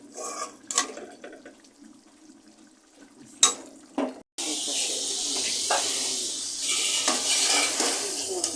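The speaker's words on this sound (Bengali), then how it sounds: "এই যে কবুতরের মাংসটা ফ্রাই হয়ে আসছে" A few clinks of cookware, then a steady, loud sizzle of pigeon meat frying in a pan that continues to the end.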